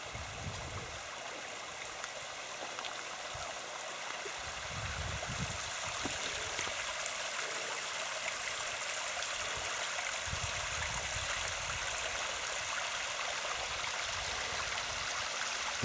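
A small forest waterfall in Japan on a spring hike, trickling and splashing steadily as a continuous, fairly loud wash of water with no talking.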